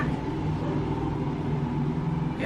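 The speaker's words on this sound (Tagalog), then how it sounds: "ang ingay ng sasakyan" A nearby car passes with a steady, loud low rumble that holds evenly throughout, with no talking.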